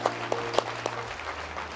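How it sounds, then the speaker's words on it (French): A church congregation at a French-language sermon applauds to acclaim the Lord, with a few sharp, distinct claps standing out over a low hum, fairly faint and brief. "là tu peux acclamer le Seigneur"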